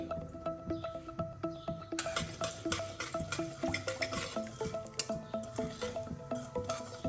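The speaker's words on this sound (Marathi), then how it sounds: "कडे गरम झालेले आहे त्याच्यामध्ये तूप टाकून घ्यायचे छोट्या चमच्याने दोन चमचे खसखस घालायचे" Poppy seeds dropped into hot ghee in a pan give a steady fine crackle and sizzle, joined by repeated stirring scrapes and soft clinks in a regular rhythm, close and fairly loud throughout with no talk.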